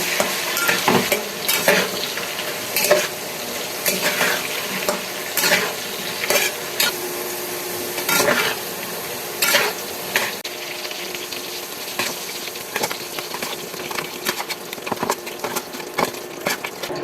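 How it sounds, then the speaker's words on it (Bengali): Potato pieces coated with turmeric and salt fry in hot oil in a wok, a loud continuous sizzle broken by repeated scraping and stirring strokes of a spatula, close and without talk. "আলুর মধ্যে হলুদ লবণ দিয়ে এবার ভেজে নেব"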